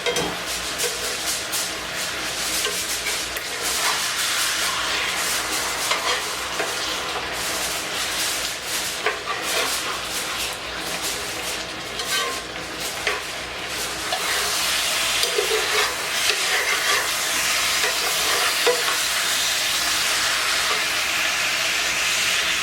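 Butter sizzles steadily in a hot pan, a dense crackling hiss that swells louder partway through, with no voices.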